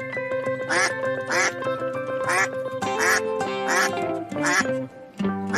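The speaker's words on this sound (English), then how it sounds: "Duck." A duck quacks again and again in a quick, regular rhythm, close and clear over a steady musical backing.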